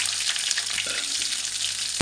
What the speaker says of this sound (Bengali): পেঁয়াজ কাঁচা লঙ্কাটা ভাজা হবে ভালো করে